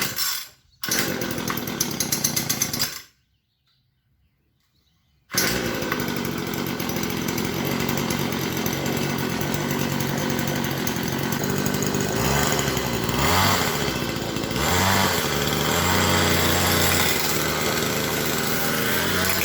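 A Hyper Tough 2-cycle string trimmer engine catches after a brief pull, cuts out for a couple of seconds, then restarts and runs with a loud, steady buzzing whine close by.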